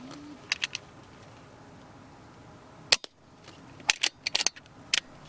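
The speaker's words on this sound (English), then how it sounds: "I'm calling that a left and a right with an air rifle." Air rifle shots at wood pigeons over cut silage, heard as faint sharp cracks, with a clear report near the middle and a cluster of quick snaps and clicks toward the end against quiet outdoor background.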